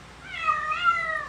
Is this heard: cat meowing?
yes